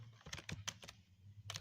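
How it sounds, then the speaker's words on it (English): Typing on a computer keyboard, close and quiet, as bursts of sharp clicky keystrokes with a pause in the middle and a quick flurry at the end. "let's do some typing now"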